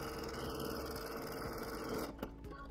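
A sewing machine doing free-motion quilting on appliqué, stitching a diagonal line: a steady, loud mechanical whir that runs continuously for about two seconds and then cuts off abruptly to near quiet.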